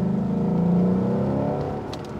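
A powerful naturally aspirated sports car engine revs near 3000 RPM, a loud, close, droning growl that holds briefly and then eases off, with no talking.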